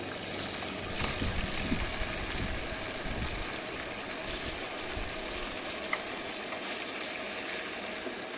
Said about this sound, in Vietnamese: Cho chảo lên mình cũng cho một dầu hành. Mình chiên chứ.